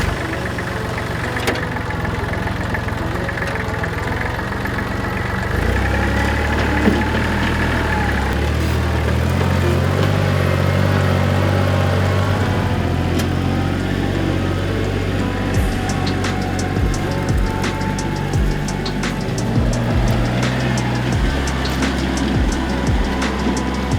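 A tractor engine runs loud and close while working ground for a duck food plot, a steady low idle-like drone that deepens and strengthens after a few seconds, with faint clicks and rattles over it.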